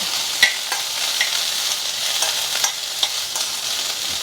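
Dry, crackling sizzle in a hot pan with occasional scraping stirs, close and steady throughout.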